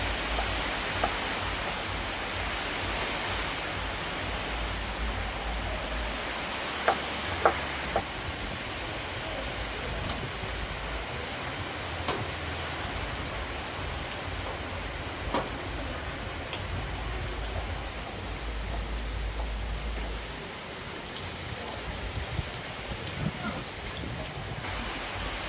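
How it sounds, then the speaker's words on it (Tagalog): Heavy rain pours steadily in a dense, hissing wash, with occasional louder drops and low rumbles under it, continuous and close throughout. "Malakas ang ulan."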